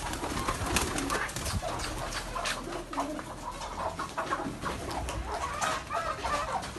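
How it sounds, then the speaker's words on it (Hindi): Flock of pigeons, including fancy breeds, feeding on grain, with chickens nearby; a constant busy wash of cooing, fluttering and pecking fills the scene, dense and close with no clear pauses. "ये सारे कबूतर हमारे दाना खा रहे हैं।"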